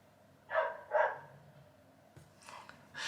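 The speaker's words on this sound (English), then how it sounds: "Can you hear that dog?" A dog barks twice in quick succession, then two more barks follow after a pause, fairly faint and somewhat distant against a quiet background.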